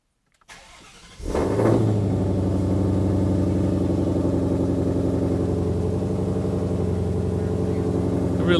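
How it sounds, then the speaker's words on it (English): A Ford Mustang GT500 engine cranks and fires up, then settles into a deep, rumbling exhaust burble at idle, loud and close, with no talking. "Everybody loves that exhaust note."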